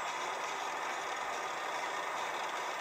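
A steady, broadband engine drone from a Caterpillar D8 bulldozer and a twin-engine scraper idling nearby, an even rumble holding constant without change in pitch or any voices.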